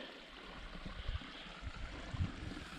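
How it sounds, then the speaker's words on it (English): Stream water runs steadily and softly, with a low continuous rush and faint gurgles, no voices present, on the Cohos Trail. "Water's running good though."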